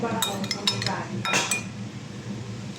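Utensils clink against dishes while spicy pancit canton with egg is mixed, a few bright metallic taps and scrapes in quick succession at close range, fading to quieter stirring.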